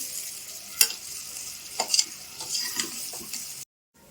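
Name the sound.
deep frying for fried rice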